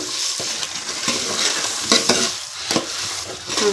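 Steady frying sizzle of a tempering with salt for puffed rice, a spoon stirring and scraping through the pan in repeated strokes, close and fairly loud, with no voices.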